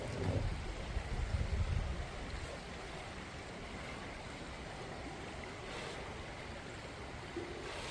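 Creek water rushes steadily through a gold prospecting sluice box on Indiana Creek, a constant close-up gurgling wash with a heavier low splash in the first two seconds and no voices.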